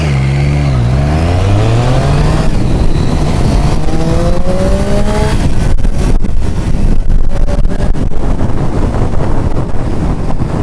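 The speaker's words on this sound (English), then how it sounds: "It's a pleasing note from the engine when applying the throttle." A 2014 Triumph Street Triple R motorcycle engine revving under throttle, loud and close, its pitch sweeping up and down through repeated rises, with wind roar buffeting throughout.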